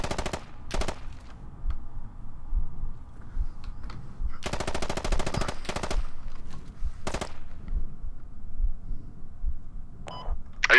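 Gunfire in the Squad video game, with sharp bursts of automatic fire and single shots breaking out in separate clusters. The shots are loud and cut off abruptly, and near-silence fills the gaps between them.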